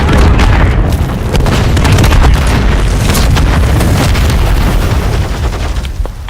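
A grenade explosion in Call of Duty MW3 on PS5 amid a loud, continuous rumble of blasts and scattered gunfire that fades slightly at the end.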